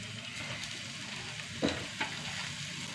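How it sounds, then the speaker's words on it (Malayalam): Spinach is dropped into a hot pan with chilli powder and salt and fries with a steady close sizzle, broken by a couple of sharp clatters as the leaves go in and get moved around. "എന്നിട്ട് ചീര ഇട്ട് കൊടുക്കാം കേട്ടോ."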